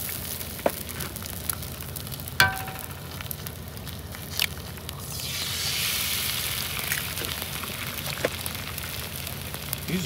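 Eggs frying on a griddle with cooking spray at a roadside cook-up in California, a steady close sizzle that swells and brightens midway, with a few sharp clinks and taps of utensils.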